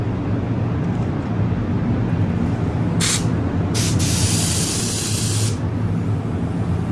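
Steady background hum broken by short hissing bursts of a paint spray gun spraying water-based Milano red car paint onto a test panel, two quick blasts followed by a longer sustained spray.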